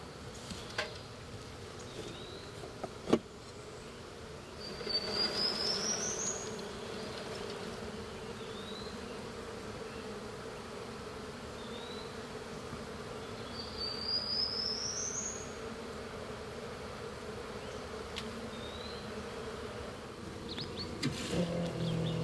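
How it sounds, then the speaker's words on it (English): Many honey bees buzzing at a beekeeping site, a steady low drone filling the whole stretch, with a couple of faint passing whistles and occasional small knocks. "That's a lot of bees."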